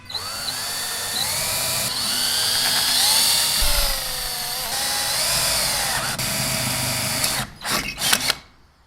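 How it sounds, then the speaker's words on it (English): Power drill boring quarter-inch holes into a Stihl MS 270 chainsaw muffler, a steady whining motor drone with shifting pitch running for several seconds, then short stuttering bursts before stopping; no talking. "For this, I'm drilling 1/4-inch holes."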